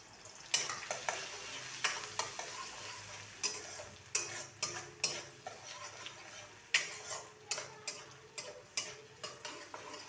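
Chopped garlic dropped into melted butter and stirred in a pan, with a steady low sizzle under a series of regular, sharp clicks from a spatula striking the pan, close up with no talking.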